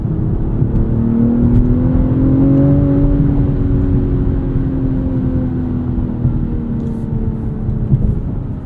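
Engine of a 2023 BMW M340i xDrive in sport mode, heard from inside the cabin as a loud steady drone whose pitch climbs, eases and shifts as the transmission changes gears, with road roar underneath.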